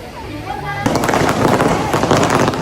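A string of firecrackers bursts into a dense, rapid crackle in Trincomalee, Sri Lanka, erupting suddenly after a quieter start and rattling on loud and continuous to the end.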